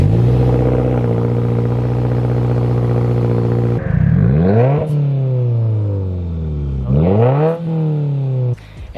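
A Subaru WRX fitted with a Tomei catback exhaust idles steadily, then revs in several rising and falling blips, a fairly mellow, not very loud exhaust note.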